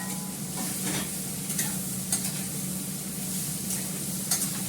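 Bottle gourd with green chilli stirred in a pan on an induction hob, a steady close sizzle with scraping stirs breaking through a few times.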